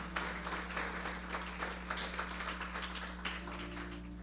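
Congregation in a church service claps loudly in steady applause over a low sustained hum from the sound system, no voices clearly heard.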